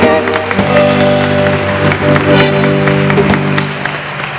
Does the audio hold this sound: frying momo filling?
no